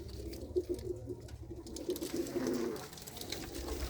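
Racing pigeons coo in their loft, a soft low murmur of repeated coos rising and falling through the stretch with faint rustling, and no voices heard.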